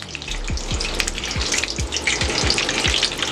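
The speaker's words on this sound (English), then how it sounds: "Frying up, baby. Frying up." Irish rolls deep-fry in hot oil with a steady, loud, close sizzle and bubbling hiss, with a few soft low knocks repeating underneath.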